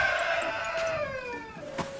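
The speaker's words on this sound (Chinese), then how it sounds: "这都听着鸡叫了呀" A rooster crows once, a drawn-out call that rises and then trails off at moderate distance, followed by a brief clucking sound near the end, with no talk.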